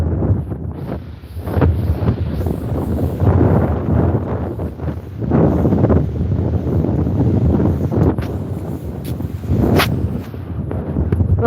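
Strong wind buffets the microphone on a clifftop and seaside promenade, a loud continuous low roar surging in gusts with no voices.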